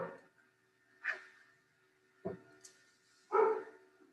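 Dogs bark indoors in four sharp, separate yelps spaced about a second apart, the last the loudest, close by, with quiet gaps between and no speech.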